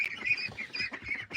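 A group of farm ducks quack repeatedly and loudly at close range, harsh nasal calls overlapping in a steady chatter without pauses.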